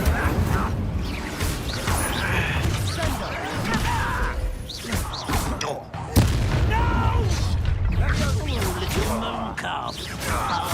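A loud Incendio fire spell blast in the Hogwarts Legacy video game, booming and crackling within dense layered battle effects and music, with a second heavy burst around the middle and voices mixed in.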